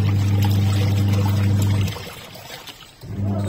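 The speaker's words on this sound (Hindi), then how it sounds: "मैंने लगा दिया है मशीन, मशीन में पानी भर दिया और कपड़े भी गिर दिए।" Water pours steadily into a washing machine drum in a home, with a low hum beneath it. The flow cuts off partway through, then starts again after about a second of quiet.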